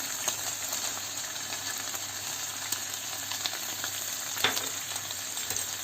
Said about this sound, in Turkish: İlk olarak bir tane soğan ve iki diş sarımsağımızı ekliyoruz.